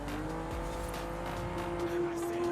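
Tyres squeal steadily as a 2011 McLaren 12C slides sideways near the finish of a lap in Forza Horizon 5, with the loud engine droning continuously beneath a sustained high screech.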